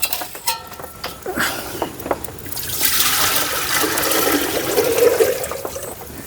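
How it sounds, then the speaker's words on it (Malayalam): Water poured from a clay pot onto a cooking fire, a rushing, splashing pour that starts after a few light knocks and trickles and grows louder and steady for the last few seconds. "കലത്തിലെ വെള്ളം ഒഴിക്കാം"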